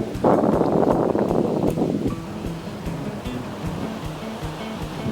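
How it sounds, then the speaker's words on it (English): Ocean surf breaks on a beach in Kenting, Taiwan, with a loud close wash that fades into a steady roar of rolling waves and some wind across the microphone. "We are in Kenting, enjoying a nice beach day."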